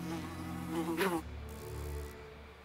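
Bees buzzing in a scene from the TV series Wednesday, a close insect drone with music and a sharp hit partway through, moderately faint.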